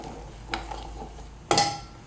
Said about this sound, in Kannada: ಹಲಸಿನ ಹಣ್ಣು ಬೀಜ ಹಾಕ್ತಿದ್ದೇನೆ ನಾನು. ಹಾಕ್ಕೊಂಡು ಚೆನ್ನಾಗಿ ಮಿಕ್ಸ್ ಮಾಡ್ಕೊಳ್ಳಿ.